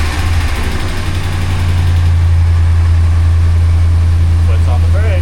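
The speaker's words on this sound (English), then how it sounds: "Okay, starting the engine, sir." A Ram 1500 pickup truck engine runs at a loud, steady idle, a deep rumble close by and continuous throughout with no clear starting crank; no one speaks over it.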